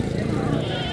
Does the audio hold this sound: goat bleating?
yes